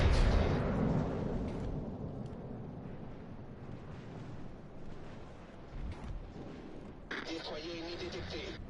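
Naval guns on a Richelieu battleship fire in World of Warships, with a heavy booming rumble that decays into a low roar, then another sharp blast near the end, as someone talks over the gunfire.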